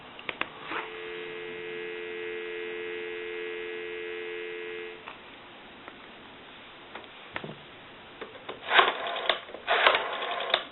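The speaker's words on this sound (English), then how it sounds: "We'll go ahead and give you some dial tone." A steady dial tone from a Western Electric 302 rotary desk telephone hums for several seconds over a faint line hiss, then cuts off, followed by clicks and bursts of line noise.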